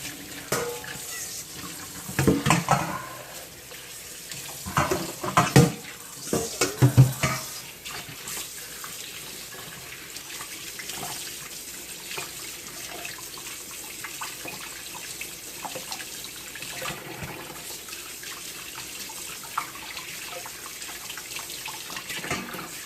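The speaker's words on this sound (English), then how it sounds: "rinse it with cold water" Running cold tap water splashes into a sink, with louder bursts of rinsing near the start, then a steadier, softer flow.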